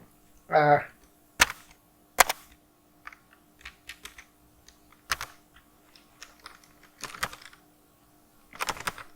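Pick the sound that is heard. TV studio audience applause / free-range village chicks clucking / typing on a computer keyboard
typing on a computer keyboard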